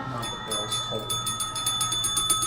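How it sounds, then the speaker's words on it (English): Bells ringing as a sound effect during a Fabula Ultima tabletop RPG session, a bright run of quick, repeated metallic chimes that keeps striking steadily at close range. "As the bells start to ring."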